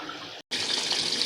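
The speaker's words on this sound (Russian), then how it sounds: "в основную стирку набирается вода. Идет полоскание." Water gushes steadily into a Candy washing machine filling for the first rinse of a 40-degree cotton bedding wash, a broad close hiss with a brief silent break partway through.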